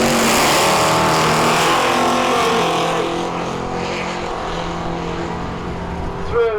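A Pontiac Firebird drag car roars down a quarter-mile strip at Melbourne Raceway in York. The engine howls loud and sustained at full throttle, then fades slightly as the car moves off into the distance.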